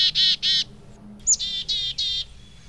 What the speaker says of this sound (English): This bird is a black-capped chickadee.